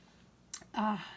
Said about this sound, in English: forgive my rude sipping, my slurping noises